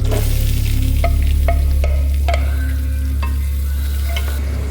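Chunks of meat, onion, garlic and ginger stirred in a hot pan, loud close sizzling under repeated scraping strokes of a utensil, steady and continuous.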